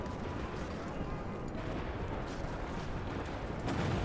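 A nuclear strike in the strategy video game Hearts of Iron IV sounds as a sustained, dense rumbling boom with heavy low-end roar that stays loud throughout and swells slightly near the end.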